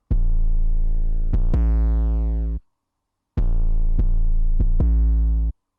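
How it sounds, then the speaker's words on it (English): A saturated, distorted 808 bass line in a trap beat: loud, booming sustained notes with gliding pitch and sharp attacks, played in two phrases separated by a short silence. "you can use the saturation plugin. That means it makes the sound a little bit bigger, more distorted"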